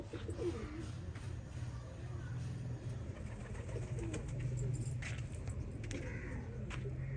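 Breeder pigeons cooing in a loft in Sialkot, a steady low murmur of overlapping coos throughout with faint rustling and occasional light clinks.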